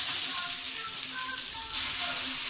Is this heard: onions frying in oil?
yes